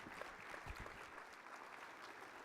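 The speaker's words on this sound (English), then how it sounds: "Let's have a round of applause for our panelists today." A conference audience applauds its panelists, a steady wash of clapping heard from a distance at low volume, continuous throughout.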